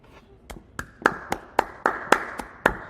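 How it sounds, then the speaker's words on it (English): A single pair of hands claps about ten times at an even, brisk rhythm, each clap sharp and close, rising slightly in loudness. "that's all we can do is clap"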